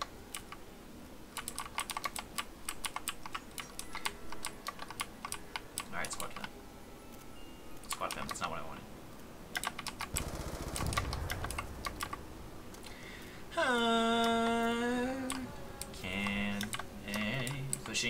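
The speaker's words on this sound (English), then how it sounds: "I just have really clicky keys because I have the Razer green switches, which are like the really clicky ones." Clicky mechanical keyboard with Razer green switches typed in quick, uneven bursts during a Black Ops 2 Zombies session, loud and close, with game sounds and a rising tone near the end.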